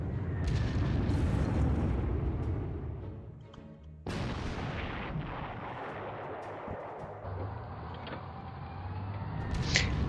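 WWII bombs strike an airfield in a strategy video game, giving heavy rumbling explosions with a sharp new blast midway, then a dense, rolling roar of booms that continues.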